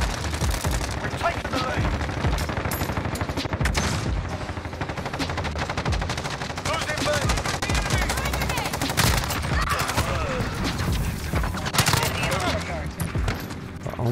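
Rapid automatic AUG fire in Modern Warfare, dense crackling bursts repeating almost without pause, loud and close throughout, with faint game noise underneath.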